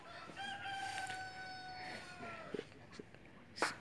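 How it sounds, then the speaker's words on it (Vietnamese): Chickens and roosters at a Vietnamese farm-style tourist park: a rooster's long drawn crow rings out near and loud, with more crowing and scattered clucks and squawks from other fowl through the yard. "Còn bên này là gà."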